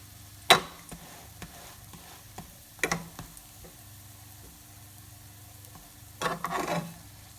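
Buns fry in a little oil in a pan for Karachi-style bun kabab, a soft low sizzle broken by a few sharp clatters and scraping bursts as they are handled.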